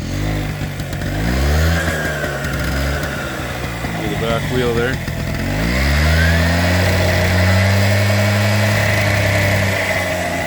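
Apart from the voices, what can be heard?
1983 Honda PA50 II moped engine running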